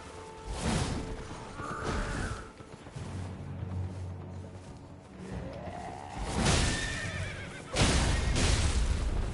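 A horse in the video game Elden Ring neighs loudly several times and is close by. Whooshing combat effects and hoof sounds mix in around the whinnies.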